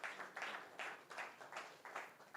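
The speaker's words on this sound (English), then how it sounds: "let's clap for her again" Faint applause for a panelist at a CEO breakfast meeting, rhythmic clapping in soft repeated bursts heard at a distance.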